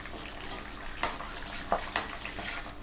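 Cut green chillies and curry leaves frying in oil for Andhra stuffed brinjal curry, a light sizzle with a few sharp crackles and stirring scrapes, close and quiet, no talking.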